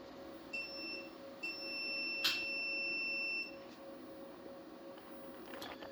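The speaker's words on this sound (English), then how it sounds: "So the BMS beeped and it disconnected charging." A DIY solar battery management system gives short, faint electronic beeps: two quick chirps followed by a longer sustained tone, set against a steady background hum.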